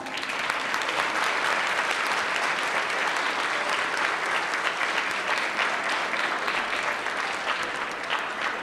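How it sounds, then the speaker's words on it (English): A large crowd claps continuously, a sustained and even round of applause that holds steady throughout without fading. "Let's give them a round of applause."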